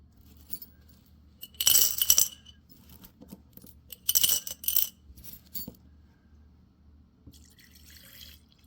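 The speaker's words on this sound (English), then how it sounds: "I'm just going to start by throwing these in a thing of CLR overnight." Metal chess pieces are dropped into a container of CLR liquid, making two close bursts of clinking and splashing over a low background hum, with a few lighter taps in between.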